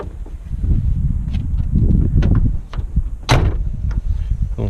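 A truck cab door swings open to its stop, with rattling and clunking handling sounds followed by a sharp metallic thud of the door hitting its limit, close and fairly loud.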